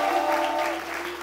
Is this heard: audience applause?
yes